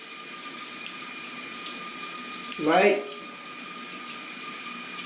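Cold water spraying from a light-changing shower head aimed at a wall, a steady soft hiss with a brief spoken word breaking in midway.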